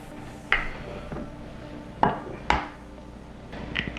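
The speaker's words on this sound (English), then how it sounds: "we need 2 egg yolk. So we need to separate the yolk here" Eggs cracked on a bowl rim while separating yolks from whites for hollandaise sauce, giving a few sharp, close taps and clinks spaced a second or more apart over quiet kitchen background.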